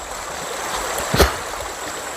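Rain-fed forest stream flowing down from the hills, a steady rushing wash of water with a brief louder splash midway, heard alone without voices.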